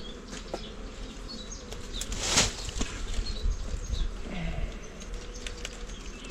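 Bees buzz around hives in Mafate on Réunion island, a steady outdoor hum with one louder bee passing close by.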